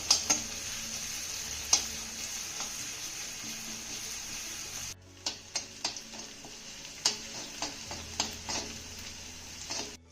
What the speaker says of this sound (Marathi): आता हे घातलेलं सर्व साहित्य आपल्याला अर्धा मिनिटं चांगलं परतून घ्यायचं आहे